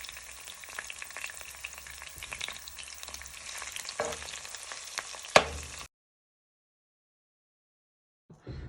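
Pieces of chicken for katsu curry fry in a pan with a constant close crackling sizzle and occasional clattering turns, then a sharp knock before the sound cuts to silence.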